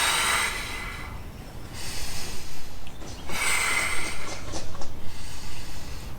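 During a yoga exercise, a person breathes out in long, airy exhales with soft huffing pulses, close and fairly loud, and no words are spoken.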